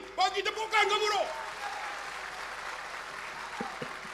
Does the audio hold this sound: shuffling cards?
no